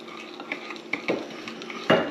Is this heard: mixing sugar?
yes